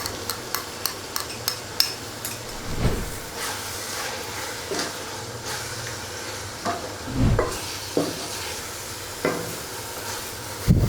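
Yogurt being stirred into a tomato masala in a pan for aloo keema, a soft sizzle under repeated spoon scrapes and taps against the pan, close by with no voices.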